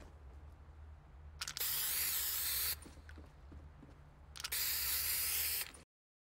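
Spray paint can in the Escape the Pyramid video game: two bursts of loud, bright hissing spray, each lasting just over a second, set against a low droning background hum.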